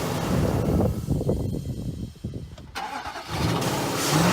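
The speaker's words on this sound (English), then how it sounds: "Go ahead and shut it off and start it up about 2 more times." A 2006 Nissan Titan truck engine cranks and catches, rumbling unevenly as it turns over, then settles into a rough idle with some wind noise.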